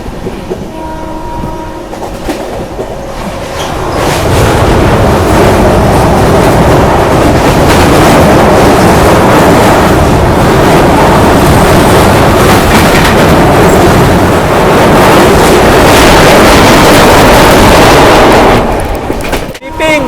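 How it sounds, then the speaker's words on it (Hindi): The Odisha Sampark Kranti Express thunders across the Yamuna River bridge, a loud, sustained roar of wheels and rattling wagons that swells in after a few seconds and holds steady before cutting off abruptly at the end. "अपनी ओडिशा संपर्क क्रांति एक्सप्रेस यमुना रिवर को क्रॉस करेगी।"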